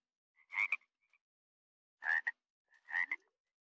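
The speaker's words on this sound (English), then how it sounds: "The banjo frog." A banjo frog in the Minecraft Australian Adventure game gives three short, loud croaks, the first two a second and a half apart and the third close behind, with silence between them.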